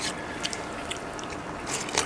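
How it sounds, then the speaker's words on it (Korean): Someone eats sundae gukbap, a Korean blood-sausage soup with chives simmered in a pot-lid pan, with close, soft slurps, bites and spoon scrapes in short bursts and no talking. "오늘 자, 먹어보겠습니다."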